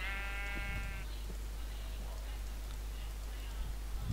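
Sheep in the Minecraft video game bleat once in a clear, harmonic call lasting about a second, followed by quiet game ambience and faint ticking.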